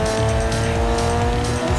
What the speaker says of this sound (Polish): ładny dźwięk samochodów